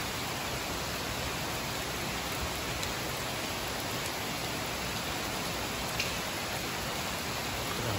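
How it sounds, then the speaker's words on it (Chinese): Steady rain falls outside during a spell of continuous downpour and flooding, a dense, even hiss that holds at the same level throughout with no talk over it. "水还在涨啊，天天下雨啊。"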